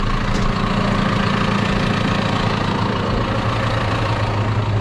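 A vehicle engine idles steadily in park, a constant low rumble close by with a faint uneven knock running beneath it, carrying on without pause and with no talking.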